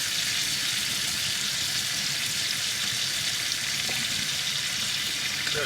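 Steak and potatoes simmer and sizzle on an Outbacker wood stove at a garden camp, a steady close crackling hiss that runs unbroken through the whole stretch.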